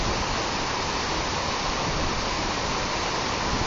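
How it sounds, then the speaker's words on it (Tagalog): Water rushes over Wawa Dam, a man-made concrete spillway, in a loud, unbroken roar like a waterfall, close and steady with no talk. "Ang ganda talaga ng Wawa Dam, no? Para siya isang waterfalls."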